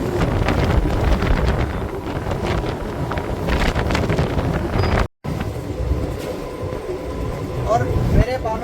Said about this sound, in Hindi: कितनी तेज़ हवा अभी यहाँ पे चल रही है समुद्र किनारे